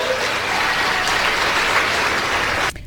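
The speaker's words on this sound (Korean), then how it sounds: "박수 소리가 나오기는 했습니다" Crowd applause after a JD Vance campaign rally line, a steady dense wash of clapping lasting nearly three seconds at fairly loud level before cutting off abruptly.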